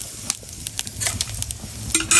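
Onion, garlic and chili tempering in hot oil: a brief burst of sizzling with quick scraping stirs and light clicks, close and continuous, no voices.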